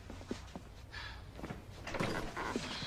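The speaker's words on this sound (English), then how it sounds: "Close the door." A door pushed shut in a Civil War-era western action film, a couple of dull knocks and a closing thud amid light rustling and footsteps in a quiet room, no voices.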